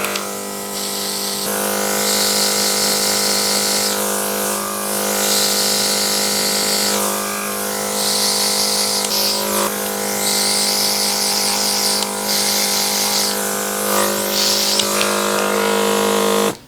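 A makeup airbrush machine sprays blush in a steady, close electric hiss and hum, broken by short pauses as the spray stops and restarts, with no talking.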